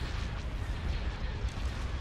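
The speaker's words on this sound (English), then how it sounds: "Direct fire at their laser cannon." Laser cannon fire during a space battle in the Star Wars: Empire at War video game, a rumbling stream of booming blasts and bursts, steady and fairly loud with no voices.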